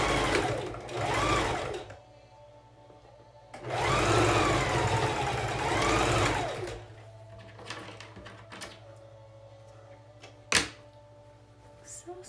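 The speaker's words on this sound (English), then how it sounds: "sew it right along the edge as close as you can" A sewing machine stitches along the edge of a fabric face mask in two steady whirring runs, close and moderately loud, with a low hum between them and a sharp knock near the end.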